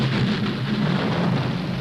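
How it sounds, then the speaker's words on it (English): Steady, loud rain pouring down in a continuous hiss with a low rumbling undertone, no voices. "We did it. We made it rain"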